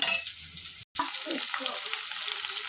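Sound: spice tempering (oggarane) sizzling in a pan

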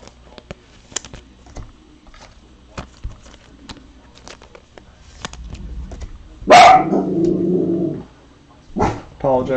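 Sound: dog barking

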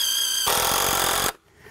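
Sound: screw gun driving a screw into twisted wood

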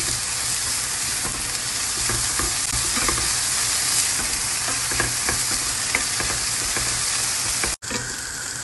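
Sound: onion being sautéed in a pan

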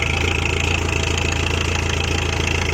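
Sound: 47-horsepower four-cylinder tractor engine running

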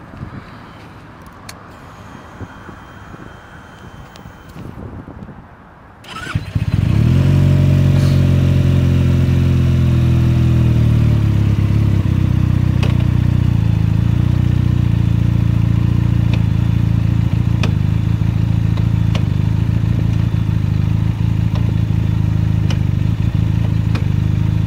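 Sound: Benelli TNT-300 motorcycle engine running

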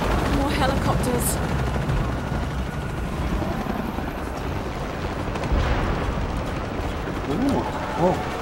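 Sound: helicopters in a video game

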